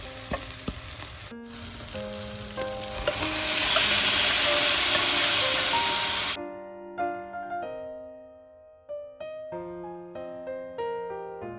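Onions and green chillies fry in a pan for a fish cutlet recipe, giving a loud, steady sizzle that builds and then cuts off, after which a melodic musical tune plays on alone.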